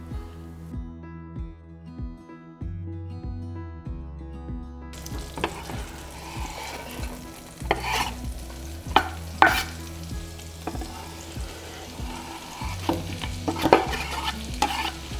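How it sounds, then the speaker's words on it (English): Roasted red peppers and bacon saute in olive oil and butter in a pan, with a steady sizzle once the pan heats, then repeated spoon stirring and scraping; no talking, with soft music at the start. "We're gonna saute those in some olive oil and some butter, and then we'll add the gnocchi in."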